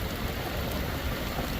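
Heavy rain pours down hard on a June day in southwest Arkansas, a dense, steady roaring hiss that fills the clip on its own, with no breaks or voices.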